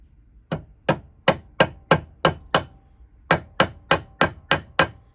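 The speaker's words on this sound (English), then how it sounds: "I just give it a few taps." A smooth hammer taps a fishing lure head held loosely in a vise, making about a dozen sharp metallic strikes in two even bursts with a short pause between, close and clear with no talk.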